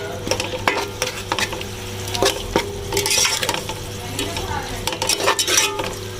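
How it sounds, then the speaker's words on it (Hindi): Beef keema with spices stirred and frying in a pan, a steady sizzle broken by repeated scraping and clinking of a utensil against the metal, close and fairly loud throughout. "कीमा भुन चुका है, अब इसमें मसाले डालेंगे।"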